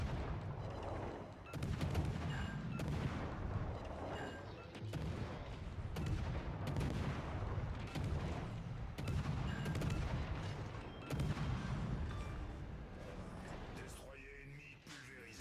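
Naval guns on warships firing armor-piercing shells in World of Warships: Legends, a series of heavy booming salvos every second or two, fairly quiet and under a voice.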